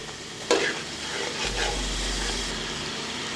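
Red chili being stirred into boneless haleem meat in a cooking pot, soft scraping and sizzling with a sharp clink at the start, steady and moderately quiet.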